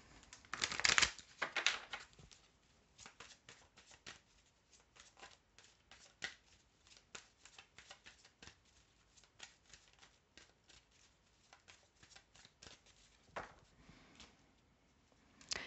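Mandala oracle cards being shuffled by hand, a busy run of soft riffling, flicking and papery slaps that stays close and fairly quiet, with a louder burst near the start and no talking over it.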